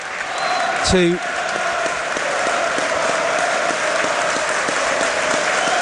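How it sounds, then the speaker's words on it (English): Applause ripples around a football stadium during an FA Cup match between Watford and Chesterfield, a broad steady wash of clapping from the crowd, with a brief voice and a whistle-like tone near the start. "there's applause rippling round the stadium for both Graham Taylor but also John Duncan"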